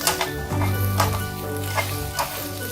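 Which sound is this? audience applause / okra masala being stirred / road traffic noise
okra masala being stirred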